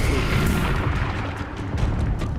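Explosive blast from the Confringo spell in a video game, a loud, booming burst with rumbling low end filling the whole short moment, followed by a few sharper crackling pops.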